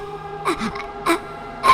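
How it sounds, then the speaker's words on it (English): A person gasping for breath in a scary story, several short sharp breathy intakes spaced apart, close and fairly loud over a quiet background hum. "Gasping for breath"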